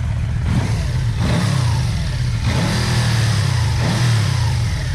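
A Yamaha V-Max 1200 motorcycle engine idles with a low, steady rumble after a long period of storage, revving up several times and dropping quickly back to idle.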